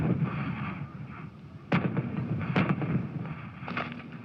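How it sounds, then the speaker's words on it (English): Artillery fire from a combined battalion of American 175mm and Russian 130mm guns: a few heavy, distant booms rise out of a steady rumbling background, spaced irregularly over a few seconds. "This combined artillery battalion is made up both of 175mm guns from America and 130s from Russia"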